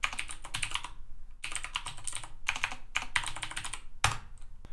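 Rapid bursts of typing on a computer keyboard while entering commands in a command prompt, the keys clattering close and crisp in quick runs separated by short pauses, with no voices.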